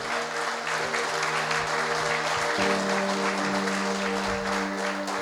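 A church congregation applauds vigorously during worship, dense steady clapping filling the room, with sustained organ or keyboard tones holding underneath.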